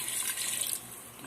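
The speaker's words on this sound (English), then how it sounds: "Add a bit more water" Water being poured into a pot of chicken curry, a steady splashing stream that runs loud and close for under a second before fading to a softer trickle, with no talking.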